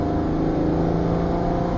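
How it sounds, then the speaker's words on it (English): A 1968 Jaguar E-Type 2+2 with a 4.2 straight-six twin overhead cam engine pulls away, a steady, close, loud engine drone with strong low harmonics and no talking. "just listen to that engine"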